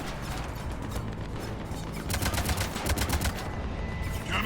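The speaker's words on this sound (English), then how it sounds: "Just hit the cannons." Ship cannons firing in the video game Mass Effect 3 Legendary Edition, Omega DLC, a rapid, loud string of booming shots that intensifies midway over dense battle noise.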